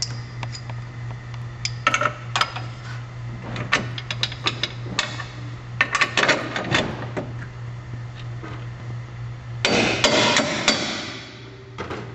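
Sharp metallic hammer taps drive a bolt into the rear spring mount of a 2008-or-later Mitsubishi Lancer, irregular strikes in clusters over a steady low hum, close and fairly loud.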